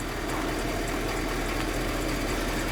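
A 2020 Ford F-650 truck with a 6.7 liter Power Stroke turbo diesel engine idles, a continuous dense rumble heard close up and steady throughout, with no voices.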